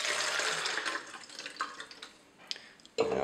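Water, about 150 milliliters, is poured into a container while mixing powdered Fomafix photographic fixer. A steady splashing stream tapers into thin trickles and drips, then ends with a sudden clunk.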